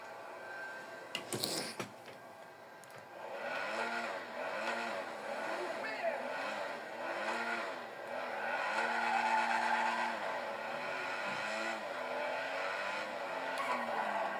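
Car driving and skidding in the video game GTA Online, with engine tones rising and falling and tires squealing, a sharp burst early on, and a voice talking over it.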